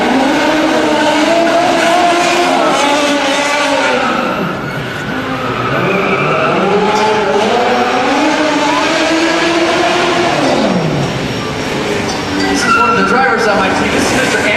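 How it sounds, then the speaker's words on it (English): A stunt pursuit car drives and skids down Camera Alley at Disney's MGM Studios Lights, Motors, Action stunt show, engine revving and tires screeching loudly in rising and falling sweeps, with a voice speaking over the arena. "Guys, can we get a pursuit car down Camera Alley"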